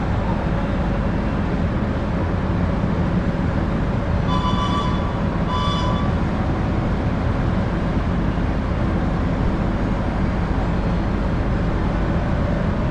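A Joglosemarkerto economy train pulls away from Kedung Jati station, a loud continuous rumble with wheel and carriage noise, broken briefly by two short horn blasts.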